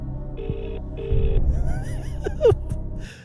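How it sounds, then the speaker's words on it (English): An outgoing telephone call rings out with two short, steady ringback tones through the line, followed by voices talking and gasping over background music. "we're on the phone to Suzanne Vaughan."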